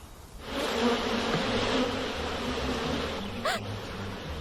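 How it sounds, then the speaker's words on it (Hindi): Bees buzz in a steady, dense drone close by, holding loud and continuous throughout with no voices over it. "मक्खी, मधुमक्खी,"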